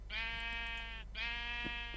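A Minecraft sheep gives two bleats in quick succession, each a clear, wavering baa. The sound is faint and sits over a steady low background hum.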